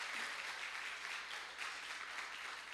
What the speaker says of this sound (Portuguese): Você pode aplaudir ao Senhor Jesus Cristo?